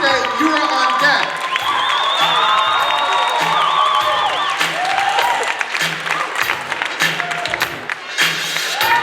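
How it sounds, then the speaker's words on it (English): An audience at a youth poetry slam finals applauds and cheers for a poet, giving sustained clapping with whoops and shouts while a voice speaks over the crowd. "Keep the applause going, I should say, for the poet from Paseo, Lawrence Free State"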